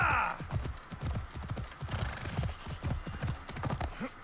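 Rapid rhythmic hoofbeats of a galloping horse on hard ground in the video game Assassin's Creed Odyssey, steady and close, with a brief whinny at the start.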